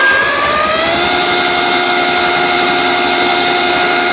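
A Skeri off-road electric fat-tire e-bike with 12-inch tires runs steadily, its motor giving a loud, continuous whine with rising tonal lines that settle into a constant pitch throughout.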